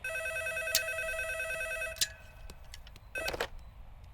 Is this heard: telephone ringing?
yes